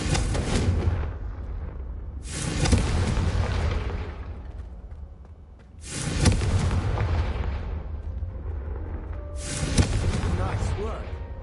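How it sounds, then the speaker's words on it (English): Confringo fire spells are cast in Hogwarts Legacy, giving four loud, booming blasts that each roll off with a long crackling tail, spaced a few seconds apart, with voices talking underneath. "a Confringo cast travels a bit farther than that of a spell like Incendio"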